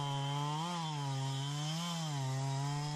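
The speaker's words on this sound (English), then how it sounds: "felling a large Grandis fir tree in Wales, using a Husqvarna 372 XP chainsaw with a 20-inch bar" Husqvarna 372 XP chainsaw with a 20-inch bar felling a large Grandis fir tree in Wales, a loud, close, continuous engine whine that rises and dips slightly in pitch twice as the cut bogs and recovers.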